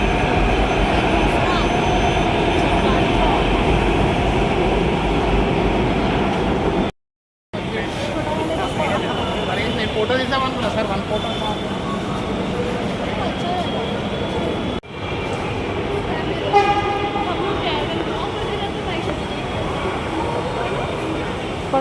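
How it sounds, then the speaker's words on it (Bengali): A metro train pulls out of a large station, giving a loud, steady rumble that swells and rolls on for over twenty seconds, with a short break partway through and people talking underneath. "মেট্রো চলে যাচ্ছে।"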